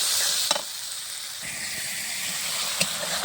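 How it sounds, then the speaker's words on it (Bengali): Ground spice paste with turmeric and salt sizzles in a hot pan, a steady close frying hiss with a couple of sharp stirring scrapes, no voices. "লবণ দিয়ে দিলাম হলুদের গুঁড়ো মশলা সুন্দর করে কষিয়ে নেব"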